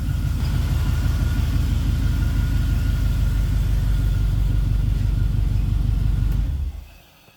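Steady car engine idles loudly and evenly with a low rumbling pulse for about six and a half seconds, then cuts off abruptly and falls to near silence.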